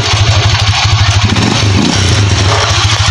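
Skygo 125 motorcycle engine converted to 150cc, revving loudly up close in a steady, throbbing burst with a brief dip in the middle, no voices.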